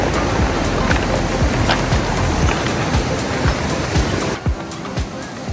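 Strong waves wash over and retreat from a rocky shore at La Zanja, Fajardo, Puerto Rico, a continuous loud roar of surf broken by sharp, clapping-like knocks as water drains between rocks.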